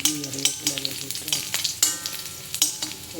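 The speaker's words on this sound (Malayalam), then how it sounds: "ഇതിലേക്ക് കടുക് വറുത്തിടും. ഉള്ളി, വെളുത്തുള്ളി, ഇഞ്ചി, കറിവേപ്പില ഇട്ട്" Mustard seeds, onion, garlic, ginger and curry leaves sizzle in hot oil in a steel pan for a cucumber and papaya moru curry, with crackling pops and rhythmic stirring clinks close by.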